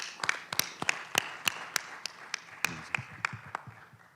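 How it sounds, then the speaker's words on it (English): Scattered hand claps at a Fulton County Board of Commissioners meeting in Georgia, a loose run of sharp, separate claps from a small group, fairly close and moderately loud, with no talking over them. "Let's give him a big round of applause."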